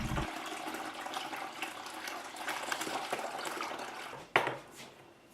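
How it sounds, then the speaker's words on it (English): Ginger beer wort pours and trickles through a strainer into a plastic brew bin, a soft continuous splashing flow that ends in a brief clatter. "I then strained the wort into a brew bin."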